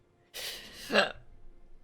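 A single sharp hiccup, close and fairly loud, following a short breathy burst of noise, with quiet room tone afterward and no talk.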